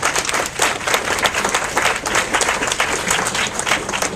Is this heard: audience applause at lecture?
yes